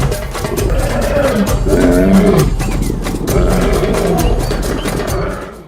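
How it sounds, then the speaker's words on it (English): A lion roars in the wild, a deep, loud, close series of rumbling roars that swell and fall over several seconds. "A lion's roar is the loudest among the cat family."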